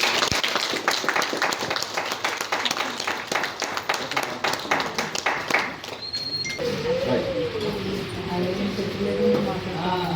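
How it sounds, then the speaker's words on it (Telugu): A crowd at a Telugu almanac (panchangam) event claps in a fast, crackling burst of applause for several seconds that then fades out, replaced by speech continuing in the room. "చప్పట్లు చప్పట్లు."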